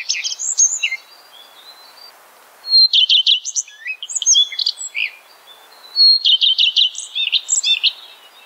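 Common redstart singing in repeated short phrases, three bursts of bright, clear chirping notes separated by brief pauses, close and distinct against a quiet background.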